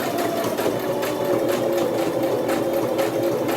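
A sewing machine stitching coiled rope into the base of a basket, a fast, steady motor whir with even rhythmic needle pulses, close and loud without any talking.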